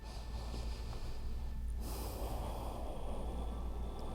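Steady, close breathing through the nose during a mobility stretch, with a continuous airy rush and a sharper inhale partway through, heard alone without talk.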